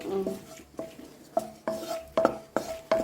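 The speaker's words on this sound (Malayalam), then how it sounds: "വെളിച്ചെണ്ണ ചൂടായി വരുന്നതേ ഉള്ളൂ. എന്നാലും ഞാൻ ആ മുളക് അങ്ങ് എടുത്തിട്ട് അതിനകത്തേക്ക്." Dried chillies are stirred in heating coconut oil in a pan, giving a string of sharp metallic scrapes and clinks of a spoon against the pan at an uneven rhythm, close and fairly quiet.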